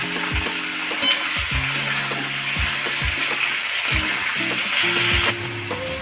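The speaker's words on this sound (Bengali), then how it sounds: "নেড়ে ছেড়ে নিয়েছি, ভাজা ভাজা হয়ে গেছে।" Steady sizzling of mustard, chili, garlic and ginger paste frying in a pan, with repeated scraping and knocking of a spoon stirring against the metal, no voices.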